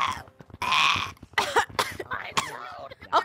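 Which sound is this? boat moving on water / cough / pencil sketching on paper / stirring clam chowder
cough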